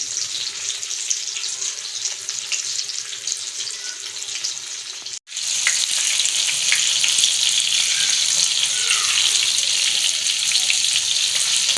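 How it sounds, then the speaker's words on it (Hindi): Fish fry sizzling in a pan over very low heat: a continuous bright crackling hiss that cuts out for an instant partway through, then returns a little louder and denser, with no talking. "ये देखें जी, ये हमारी फर्स्ट क्लास बेहतरीन सी फिश हो रही है फ्राई।"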